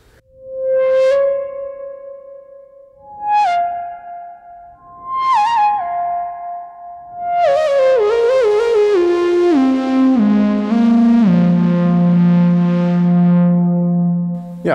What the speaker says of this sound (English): The sound is going through it and creating this old school analog reverb effect,